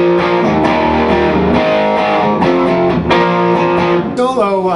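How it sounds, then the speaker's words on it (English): Electric guitar solo with heavy distortion and a sweeping wah pedal effect, fast sustained notes ringing loud over a backing band, with a bend near the end. "Good excuse to get out your wah-wah pedal, give it a little distortion, and here it is at speed."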